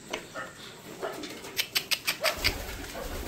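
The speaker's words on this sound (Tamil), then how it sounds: "இப்போ வந்து நம்ம புறாவையும் பார்த்துருவோம்" Pigeons in a pigeon loft give a run of soft, throaty coos in quick pulses, close by and fairly clear, with faint rustling between the calls.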